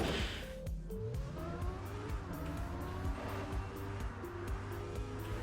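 A car in the video game Trackmania accelerates, then brakes with tire squeal and skidding, its engine pitch rising and falling through gear shifts at moderate loudness.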